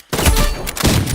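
Rapid, loud gunfire in the online shooter game Rivals, a dense burst of close shots filling the whole moment after a brief quiet start, with no talk over it.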